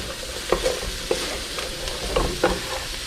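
Pork, onion and coleslaw mix sizzle and fry in a Ninja Foodi, a close, steady crackle broken by a few brief scraping stirs.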